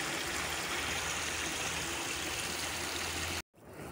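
A hiking stream flows with a loud, steady rushing wash close by that cuts out abruptly near the end, and no one speaks.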